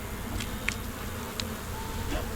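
Honey bees hum and buzz around an open brood box packed with bees, a steady close drone with individual insects zipping past now and then.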